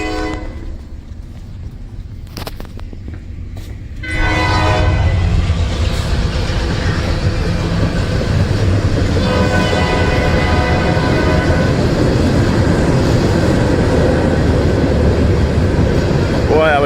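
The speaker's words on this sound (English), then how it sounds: "Here comes a train." A train roars past close by, loud and continuous, with a drawn-out horn blast sounding over the rumble and rattle of the cars.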